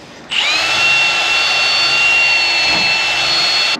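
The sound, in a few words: drill with sandpaper drum sander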